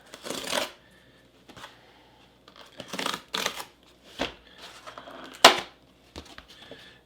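Plastic packaging being torn and peeled off a French 24-hour RCIR ration, giving a series of crinkling, rustling bursts and a few sharp crackles at close range with short pauses between.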